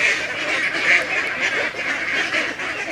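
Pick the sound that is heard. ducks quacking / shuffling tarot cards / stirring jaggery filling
ducks quacking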